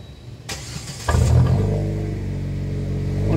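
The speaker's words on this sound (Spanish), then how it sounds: "Ahorita lo vamos a echar a andar para ver qué tal suena." Modified Chevrolet Spark with a stainless steel exhaust cranks and fires up, a short starter whir followed by the engine catching and settling into a steady, moderately loud idle close by.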